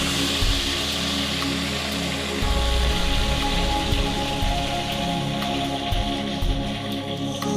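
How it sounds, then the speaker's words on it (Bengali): Marinated bhetki fish frying in mustard oil, giving a steady, dense sizzle and crackle that runs close and loud throughout with slight shifts in intensity. "ম্যারিনেট করা মাছগুলো এবার আমি ভেজে নেব। নিয়ে নিচ্ছি সর্ষের তেল।"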